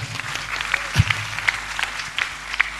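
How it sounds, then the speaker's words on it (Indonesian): Scattered, moderate clapping from a gathered audience at a community talk, with a handful of sharper individual claps standing out over a low background hum. "Tepuk tangan untuk Mas Abrang."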